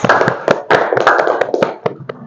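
Classroom applause, a burst of many hands clapping together in irregular, overlapping claps, loud and close, fading out near the end.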